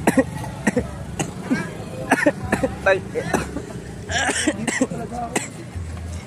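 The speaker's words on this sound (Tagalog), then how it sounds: "Inuubo ako, sir." Several sharp coughs and throat-clearing bursts scattered among talking voices, with a low engine rumble running underneath.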